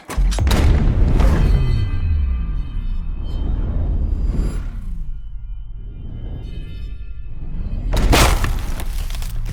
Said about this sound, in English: I then finished off with the tree exploding.